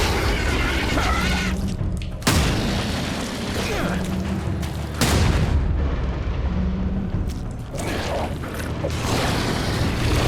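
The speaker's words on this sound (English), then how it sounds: "I know, a grenade can solve this problem." Heavy explosions go off in The Sinking City, with a grenade bursting as a big, close boom and several more blasts rumbling over a busy background, and a voice heard briefly amid the action.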